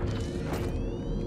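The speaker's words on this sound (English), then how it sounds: "Reloading." A weapon reload in the video game Helldivers, a brief mechanical clack and creaking ratchet of metal parts, close and fairly loud with no voices.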